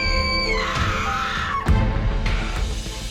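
A woman's loud, sustained scream sounds indoors, with a sharp thud partway through over a dense, noisy background.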